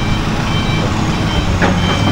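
A truck at a building demolition site in Bekasi, West Java, sounds reversing beeps over a loud, constant rumble of engine and site noise.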